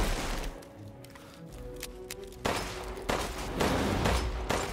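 Gunfire in the video game Resident Evil Village during a boss fight: sharp bursts of shots with a sustained hum beneath, growing denser and louder in the second half, with no voices.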